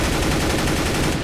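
Video-game M4 rifle firing a rapid string of shots, dense and loud throughout, with no voice over it.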